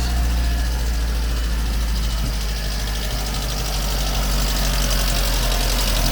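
A VW Polo Mk2 fitted with a swapped twin cam AFH engine runs steadily just after starting, giving a loud, continuous idling drone with a slightly ticking, uneven edge and no talk.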